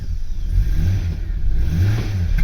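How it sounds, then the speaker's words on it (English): A Vauxhall Omega engine revs hard on a cold start after sitting for days, a loud, close, rough mid-pitched roar that rises and falls in uneven surges with no talking. "This doesn't like cold starts, it can be a little bit, needs a rev to get going."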